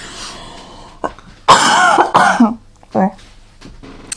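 Several close coughs and throat clearing break up a person talking, with one long, loud coughing fit in the middle followed by a shorter cough.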